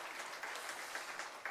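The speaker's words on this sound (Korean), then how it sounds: "박수 한번 하겠습니다." Church congregation applauding after a youth group's report on a summer retreat and short-term mission trip to Vietnam, a brief dense patter of clapping at moderate distance, quiet and steady.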